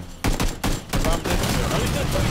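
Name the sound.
gunfire in a video game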